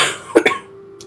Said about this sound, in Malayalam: 2 വർത്താനം പറയുമ്പോത്തിനും ചുമക്കുകയാണ്